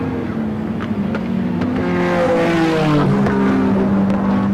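The Nissan Skyline's RB26 engine revs up and climbs in pitch, a loud close roar whose layered harmonics sweep upward and then hold, with a few sharp pops along the way and no talking.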